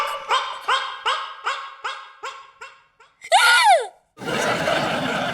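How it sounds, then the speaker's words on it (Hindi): A woman gives one short, shrill scream to scare her brother. Before it comes a rapid run of rhythmic yelping barks, and after it a burst of loud noise. "चीख के डरा रही है अपने भैया को"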